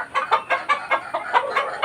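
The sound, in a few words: chickens clucking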